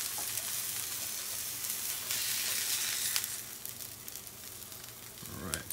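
Eggs frying over medium in a Hexclad hybrid pan give a steady, close sizzle that runs throughout, with a few brief scraping clicks as a spatula works under them near the end.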